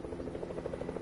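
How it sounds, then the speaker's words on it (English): A helicopter in a video game, heard as a low rapid rotor thudding with a steady pulsing rhythm, faint and brief. "Helicopter, damn it."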